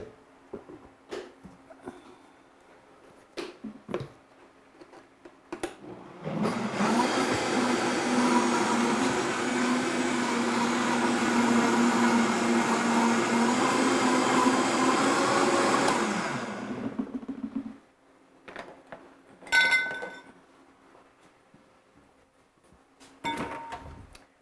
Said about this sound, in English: Have your blender do the heavy lifting here for you